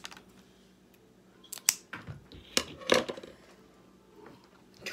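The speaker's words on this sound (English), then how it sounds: "And these scissors are not good, so I'm just being honest with you." Worn household scissors snip while a fidget toy is being made, giving a few sharp, close clicks and crunches, mostly alone in a quiet room.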